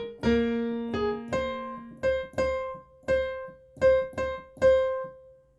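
Piano playing the chorus of a song, part 1: eight or so distinct struck notes and chords in an uneven rhythm, each ringing and decaying, close and clear with no talking.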